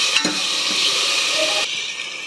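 Ginger garlic paste, turmeric, tomato and coriander are stirred in a hot pan, producing a loud, steady sizzle with a scrape at the start. The sizzle quietens partway through.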